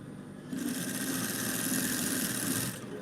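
Sewing machine running in a single steady burst of stitching across fabric, a close, even motor hum starting abruptly, holding for about two seconds, then stopping, with no talk over it.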